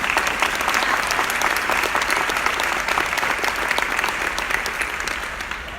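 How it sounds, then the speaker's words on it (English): Audience applause at a women's leadership breakfast honoring the Women United giving group: dense, sustained clapping from a large crowd, steady throughout and easing slightly at the end. "Let's give a round of applause for Women United"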